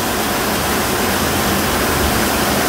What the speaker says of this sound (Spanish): disfrutando las tormentas de Chalatenango